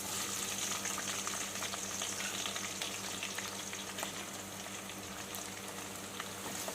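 Onions frying in hot oil for chicken fry, a continuous close sizzle with fine crackle that holds steady for several seconds, no talking over it.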